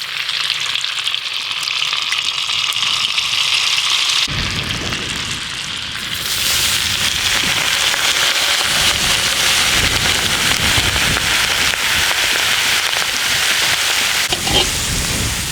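Half a pack of butter with olive oil sizzling and crackling in a hot pan with shrimp shells for a prawn bisque, a loud steady frying hiss that swells after a quieter start and holds to the end.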